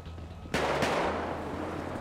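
A single loud gunshot cracks out in GTA 5 roleplay, followed by a short second report and a long fading echo over low background hum.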